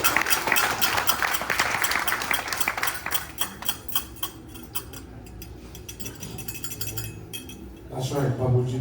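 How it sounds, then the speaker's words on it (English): An audience at a family yagna gathering gives a round of applause that starts dense and loud, then thins out and fades, with voices and some clinking in the background. "So please give them a round of applause."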